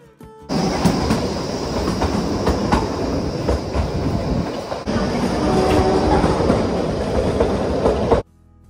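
Passing train on an Indian railway line near Solan, a steady loud rumble with rhythmic clickety-clack of wheels over rail joints, close by and continuous for about eight seconds before cutting off, with no talking.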